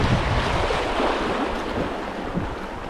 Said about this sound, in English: we've got to probably one of the funner rapids on the river